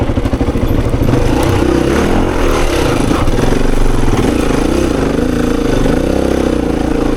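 A 26-year-old Honda XR400 dirt bike engine thumps loudly and up close on a hard singletrack enduro loop, its single-cylinder beat throbbing and clattering steadily with small shifts in revs.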